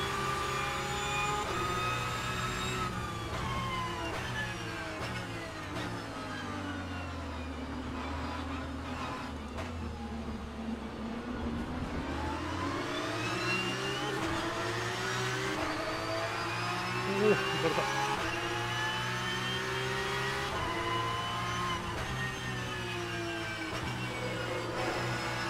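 Porsche 992 GT3 Cup race car engine in a racing simulator, a steady droning exhaust note with harmonic pitch sweeps falling and rising through gear changes, continuous and fairly loud throughout.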